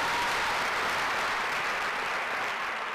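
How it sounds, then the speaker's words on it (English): Steady, dense clapping from a university lecture audience, a full room applauding continuously at moderate loudness for the whole stretch. "Clap. Come on, clap."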